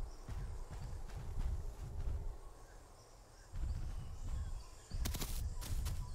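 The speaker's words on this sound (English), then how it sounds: "Those footsteps." Heavy dinosaur footsteps from the video game The Isle thud in slow, irregular bursts, faint and muffled beneath a soft bed of insect-like ambience with a few sharp clicks.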